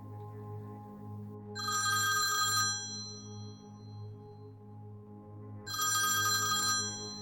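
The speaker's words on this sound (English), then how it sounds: "The jangle was coming from a pay telephone booth" A pay telephone bell at a service station rings in two loud, bright, jangling bursts about three seconds apart over a steady low hum.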